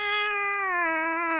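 A single drawn-out cat meow from a Minecraft game sounds close and clear, a steady tonal cry holding for over a second with no talk over it.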